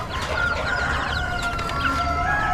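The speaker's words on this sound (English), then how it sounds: "One hen." Chickens cluck and a rooster crows at an Amish spring animal auction, several birds calling together in a steady, fairly loud mix over crowd noise.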